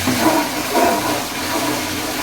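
Water poured over a dog to rinse off shampoo during a bath, a steady splashing gush that swells and fades slightly, with no talk.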